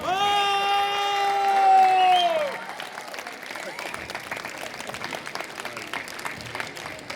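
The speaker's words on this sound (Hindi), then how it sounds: "जोरदार तालियों के साथ स्वागत कीजिए हम सबके प्यारे" Applause from an audience welcoming a guest at a Kendriya Vidyalaya alumni meet and foundation day. It follows a loud amplified voice and swells into steady crowd clapping with scattered cheers for several seconds.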